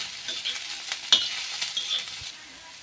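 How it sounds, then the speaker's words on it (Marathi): Four or five lengthwise-sliced onions fry in oil on a griddle, giving a steady close hiss and crackle with a few sharper stirring clicks and scrapes, moderately loud throughout with no voices. "सारसाठी मी चार पाच कांदा असा उभा चिरलेले आणि त्याचं तावावर चांगलं मस्त भुंजिलेस तेल टाकीसनी"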